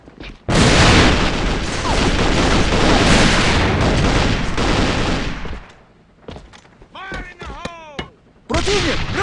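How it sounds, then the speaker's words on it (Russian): A grenade goes off in the online shooter AVA on an airplane map, a loud sustained roar of blasts and gunfire for several seconds that thins out into scattered effects and voices, then a final loud burst. "Бросаю гранату!"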